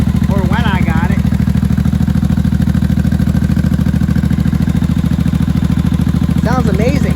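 A 1983 Honda motorcycle engine idles steadily and loudly up close, a constant rapid low thrum throughout, with someone talking over it briefly at the start and again at the end.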